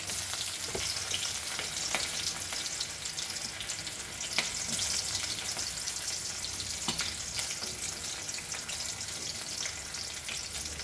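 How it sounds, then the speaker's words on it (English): Onions for veg Hakka noodles fry in a hot pan with a dense, steady sizzle, broken by occasional light scrapes and taps of a stirring utensil, close and continuous with no talk. "And now I will add some onion to this."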